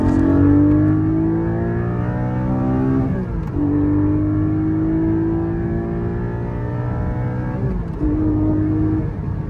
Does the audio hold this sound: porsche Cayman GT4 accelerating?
yes